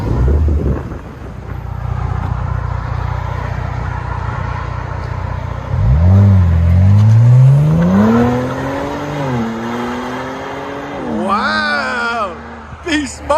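A Kia Stinger GT 3.3L turbo V6 with a muffler delete revs up with a rising, whining turbo-spool pitch that climbs, levels, and dips again, loud and close over a steady rumbling background.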